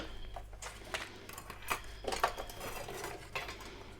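Candle lids are picked up and set down one after another, light clinks and taps of metal on a hard surface, close and quiet, with faint handling rustle between the knocks.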